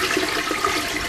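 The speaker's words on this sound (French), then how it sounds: "la chasse d'eau des toilettes se déclenchait toute seule" A toilet flushes nearby in a house, giving a loud, steady rush of water that runs through the whole moment with no talking.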